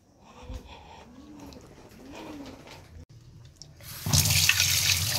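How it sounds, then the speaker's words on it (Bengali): A kitchen tap suddenly gushes into the sink for washing dishes, loud and close, after pigeons coo softly in the background. "তখন সিঙ্কে যে বাসন কুসনগুলো রাখা ছিল সেগুলো সব মেজে ধুয়ে রেখে"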